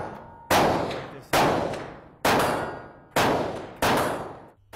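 An AK-47 Kalashnikov rifle chambered in 7.62x39 fires single shots at a shooting range: five loud, sharp reports spaced under a second apart, each ringing out in a long decaying tail.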